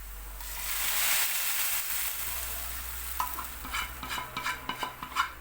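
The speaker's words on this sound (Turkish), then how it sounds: "Soğan kavrulduğu zaman anık diyerdik biz buna." Onions sizzle and fry in a pan for a Turkish village-style yogurt soup, a steady broad hiss with clinking stirring strokes growing more frequent toward the end, close and fairly loud with no talk.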